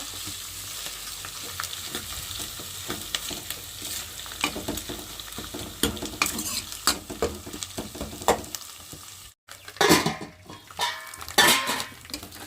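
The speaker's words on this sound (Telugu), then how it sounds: "అల్లం వెల్లుల్లి కొబ్బరి మూడు కలగలిపి పెద్ద పేస్ట్ మసాలా పేస్ట్ అది ఇంకా లైట్గా వేయించుకున్నామండి" A ginger, garlic and coconut masala paste frying in a pan gives an uneven sizzle, broken by frequent clinks and scrapes of a spoon on metal cookware and a short pause before the stirring resumes.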